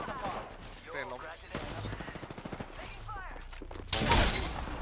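Kraber sniper rifle shots ring out in a video game, several sharp cracks amid a busy mix of gunfire and impacts, with a loud blast near the end and a voice talking over much of it.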